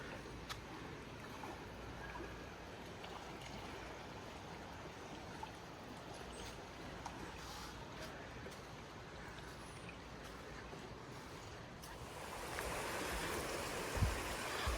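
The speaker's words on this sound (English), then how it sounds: "It's flowing, water's flowing pretty good." River water flowing steadily at a Yosemite-area RV resort, a continuous broadband rush with no talk, growing noticeably louder and fuller near the end.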